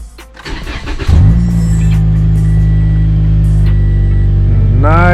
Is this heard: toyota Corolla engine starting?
yes